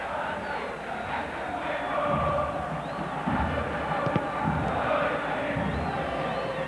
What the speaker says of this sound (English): the crowd, as you can hear, is not very happy, and they are letting the team know.